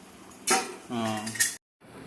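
A metal utensil scraping and clinking against a pan on a home stove as food is stirred, with two loud close bursts of clattering and a brief pause before it resumes.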